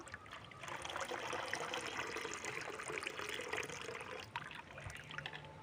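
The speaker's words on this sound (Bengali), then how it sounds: "এরপর আমি এতে জল অ্যাড করব" Water pours steadily into a blender holding roasted mango pulp for a chilled drink, a continuous near trickling rush lasting several seconds with no talk.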